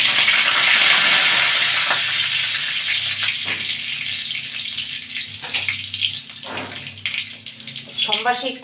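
Dried red chillies and Bengali five-spice tempering hitting hot oil, a loud, broad sizzle that hisses strongly at first and slowly fades, with a voice speaking over it near the end.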